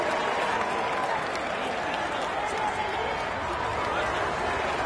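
Simulated crowd cheers and claps for a rider starting an individual time trial in a Tour de France video game, a dense, continuous wash of applause and shouting heard throughout with no pause.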